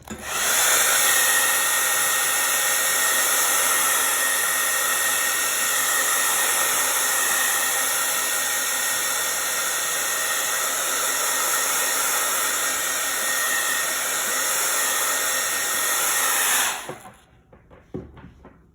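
A hair dryer blows steadily on fresh paint coating a craft gnome, a loud continuous whoosh lasting about seventeen seconds before it cuts off, followed by a few faint handling knocks.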